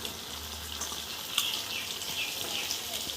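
Raw jackfruit, boiled in a pressure cooker, goes into a pan of fried potatoes and spices, giving a steady broadband sizzle with a few sharper crackles and pops, close and fairly loud throughout without any talking.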